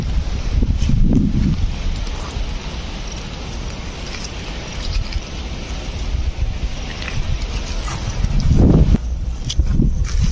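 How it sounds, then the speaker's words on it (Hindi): Strong wind blows hard across an open outdoor area with trees and plants, a loud continuous roar buffeting the microphone, with heavier gusts swelling near the start and again near the end. "देख सकते हैं यार इस एरिया को कितना ज़्यादा हवा चल रही है साइड।"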